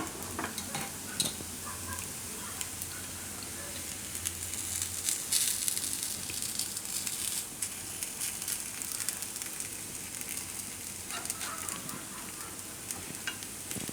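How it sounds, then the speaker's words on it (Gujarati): Beetroot appe frying in oil in an appe pan as they are turned, a steady close sizzle with scraping stirring sounds and occasional clinks, no talk. "જરૂર પડે તો પાછું થોડુંક તેલ નાખવાનું ને બધાય આપણે જે રીતે થાય એમ ફેરવી નાખીશું"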